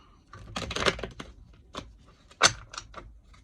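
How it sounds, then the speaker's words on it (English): Crisp papery riffles and taps of tarot cards being shuffled, in short irregular bursts, close up with no voices. "let's shuffle the clarifying cards and get y'all read"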